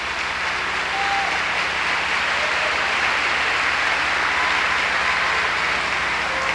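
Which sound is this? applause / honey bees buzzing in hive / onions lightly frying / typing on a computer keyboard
applause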